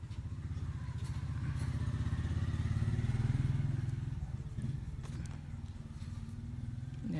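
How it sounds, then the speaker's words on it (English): A motor vehicle, likely a motorcycle, passes outside with a loud, steady low engine rumble that swells toward the middle and slowly fades, with faint clatter near the end. "There's a vehicle coming. So excuse me for that."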